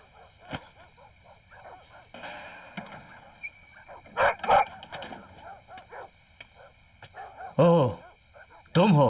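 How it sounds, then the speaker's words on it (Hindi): Dogs bark loudly in several sharp bursts, the loudest clustered near the end, with yips and whimper-like sounds between them and voices murmuring faintly underneath. "इसीलिए कुत्ते इतनी जोर जोर से भौंक रहे हैं।"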